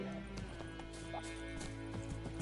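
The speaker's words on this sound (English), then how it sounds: "baby horse." A horse clip-clops in a rhythmic trot in The Witcher 3 video game, hooves close and clear over game music, with a soft whinny.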